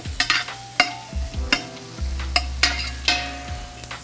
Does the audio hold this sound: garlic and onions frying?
yes